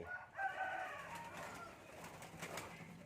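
Dove chick of the Nok Khao Yai type, a Malay-line bird, calling in an aviary: a soft, slightly raspy cooing rising and fading over a few seconds against steady background noise, fairly close.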